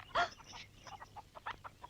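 Chickens clucking faintly in a farmyard, a short burst of squawking followed by scattered soft clucks, low and somewhat distant.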